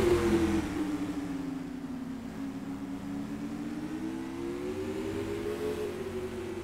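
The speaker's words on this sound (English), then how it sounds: "Green flag's out, we're racing." Supermodified race cars accelerating off the green flag in a heat race, a loud continuous engine roar whose pitch dips and then climbs steadily, with no voices over it.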